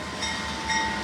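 Freight train M492 at the Waycross depot in Georgia rumbles past in a steady low drone, with a faint high tonal whine over the rolling noise.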